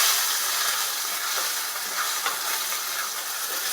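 A seared Angus bottom round beef roast hisses and sizzles steadily as it sits in a hot pan, a constant bright frying hiss with faint pops and crackles and no voices.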